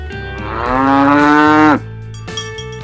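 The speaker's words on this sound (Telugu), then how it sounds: "ఆవు." A single loud, close cow moo swells, holds for more than a second, then cuts off sharply, with quiet background sound after it and no talking.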